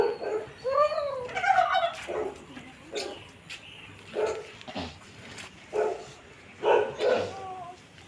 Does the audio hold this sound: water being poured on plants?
no